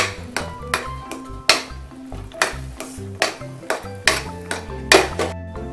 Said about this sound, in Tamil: இதை நல்லா கலந்து விட்டுக்கலாம்